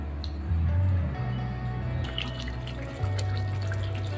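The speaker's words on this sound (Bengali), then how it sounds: "টকবক টকবক করে যেমন দেখতে পাচ্ছ তেমনি আওয়াজটাও আশা করি বুঝতে পারছো" Chicken kasha, a spiced Bengali meat curry, bubbling in a pot, a steady close simmering crackle and soft popping with no one talking.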